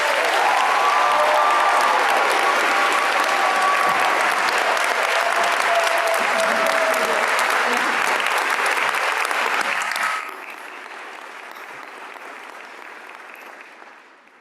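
An audience applauds Doctor of Philosophy graduates at a Warner School of Education commencement ceremony. Steady, loud, dense clapping with a few whoops runs for about ten seconds, then drops off sharply to lighter scattered claps that fade out.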